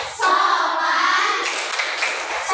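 Pupils in a classroom clap in rhythm during the Tepuk 5S chant, one steady burst of close, loud clapping with group voices mixed in.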